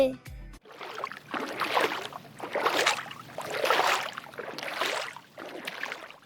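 Oars paddle a small boat along a river in a cartoon, producing a steady series of about five swelling watery splashes and swishes, each roughly a second long, with no talk over them.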